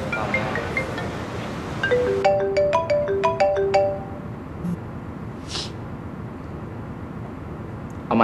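A mobile phone ringtone plays a short, bright melodic tune of quick ascending notes for a couple of seconds and then cuts off, leaving a windy, rumbling outdoor background.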